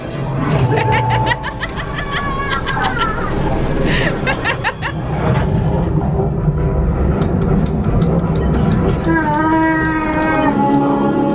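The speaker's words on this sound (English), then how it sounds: "There's the train." A train rumbles past with sustained horn-like tones during the Smugglers Run ride at Galaxy's Edge, Hollywood Studios, crowded by busy action noise, shots and snickering voices throughout.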